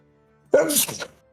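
A single sharp, close sneeze bursts out after near silence, then fades quickly.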